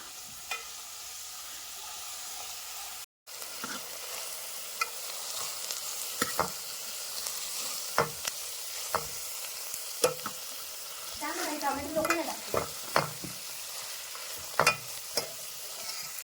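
Coriander is stirred in a sizzling frying pan during an outdoor Malvani chicken cook, a continuous hiss broken by repeated scraping strokes of the spoon at irregular intervals, close by with no talk.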